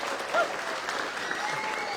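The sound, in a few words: audience applauding car unveiling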